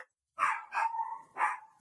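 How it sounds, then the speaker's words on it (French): Dogs at a family home barking in several sharp bursts, loud and close, with short gaps between barks and no talk over them. "il y a des chiens chez mes parents"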